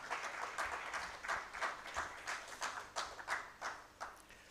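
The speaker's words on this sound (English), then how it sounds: "A hand clap for him." Audience applause for a speaker giving closing remarks at a financial inclusion conference, faint and somewhat distant, with a rhythmic, loosely synchronized patter of claps throughout.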